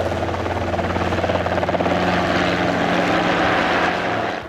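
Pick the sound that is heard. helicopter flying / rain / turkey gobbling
helicopter flying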